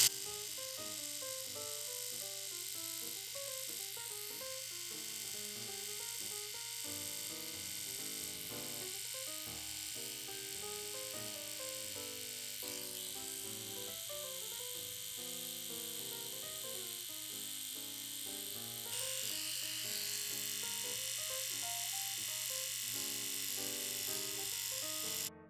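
KISS Beauty electric trimmer buzzing steadily as it trims facial hair, close and continuous, with a constant hum under background music.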